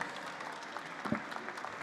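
Faint applause from an audience at a chocolate competition awards ceremony, steady scattered clapping heard at a distance.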